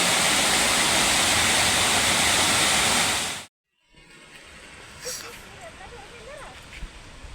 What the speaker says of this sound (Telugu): చూడండి ఇక్కడ ఎంత ఫోర్స్గా వాటర్ వస్తుందో